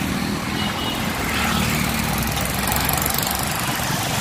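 Steady, loud road traffic at night heard from a moving bike in India, a continuous engine drone with passing vehicles and no breaks, no voices over it.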